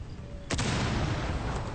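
A breaching charge bursts through a ceiling in the video game Rainbow Six Siege, a sudden loud blast followed by a sustained rumbling wash of gunfire-like noise that continues to the end.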